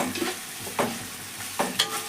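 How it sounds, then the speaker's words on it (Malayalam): A utensil scrapes and stirs through food in a pan with a steady sizzle underneath, a few louder scrapes standing out. "എന്നിട്ടാണ് മസാല കൂട്ടിക്കൊണ്ട് നിൽക്കട്ടോ. ഇളക്കി കൊടുക്കാം."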